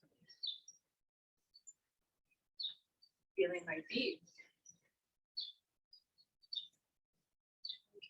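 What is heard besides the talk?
birds chirping outdoors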